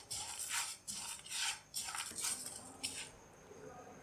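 Sugar and almonds stirred together in a pan for caramel, giving repeated close scraping and rustling strokes against the metal at a steady rhythm.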